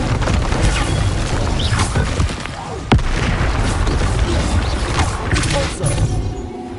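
Incendio fire spells cast during combat in the video game Hogwarts Legacy, with a sharp burst standing out near the middle of a dense, continuous mix of booming, crashing game effects.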